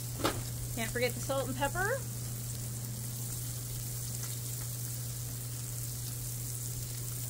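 Potatoes fry on a Blackstone griddle with Italian seasoning and Parmesan ranch, giving a steady close sizzle throughout while a person speaks briefly near the start.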